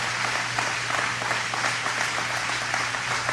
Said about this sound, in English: They've been clapping for about a minute already.